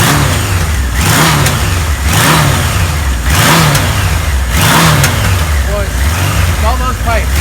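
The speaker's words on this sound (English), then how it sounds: "This bike runs nice." A red 1977 Kawasaki KZ1000 motorcycle engine runs loud and close, revving in repeated rising and falling surges over a rough idle, with no talking.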